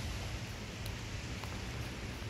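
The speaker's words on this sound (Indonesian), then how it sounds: "Nah ini dengar suara deburan ombak" Waves break on the beach at Utama Raya rest area in Situbondo, East Java, as a steady broadband roar of surf, faint and continuous with no voices.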